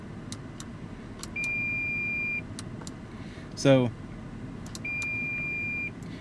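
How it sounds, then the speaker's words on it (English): Parking sensor on a 2015 Toyota 4Runner gives two long steady electronic tones separated by a pause, with faint ticking beeps and a brief voice between them over low cabin hum. "you see that beeping noise? That's the noise it actually makes if you get close to something"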